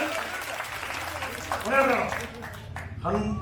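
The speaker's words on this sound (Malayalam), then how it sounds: "ഹൃദയം നിറഞ്ഞൊരു കൈയടി ഞാൻ ആ പിടിച്ച് കൊടുക്കുകയാണ്" Steady audience applause rolls through a hall during a Malayalam speech about Sree Narayana Guru, a broad continuous patter of clapping heard under a voice.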